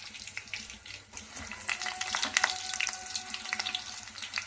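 Chopped onions frying in fully heated oil for a Koramenu fish curry, a loud close sizzle with crackling bursts that rises and stays steady, no voices.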